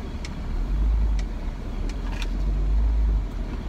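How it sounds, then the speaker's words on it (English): A Honda S2000 with a new big-bore electric throttle body drives along, its engine a steady low drone that swells twice, heard from inside with faint clicks and no talking. "now I'm gonna go test drive my new throttle body and see how the throttle response is"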